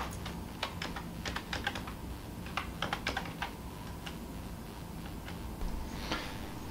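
Keys clatter on a computer keyboard as a password is typed at a login screen, a quick irregular burst of close clicks with short pauses, over a steady low room hum.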